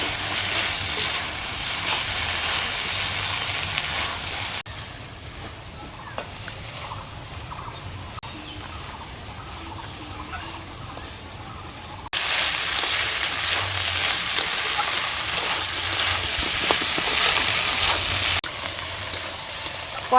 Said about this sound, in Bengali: মাছের ডিমটা দিয়ে একটু ভালো করে কষাই।